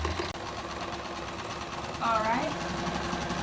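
Sewing machine stitching seat cushion upholstery, a steady fast mechanical hum running through the whole span, with someone speaking briefly at the start.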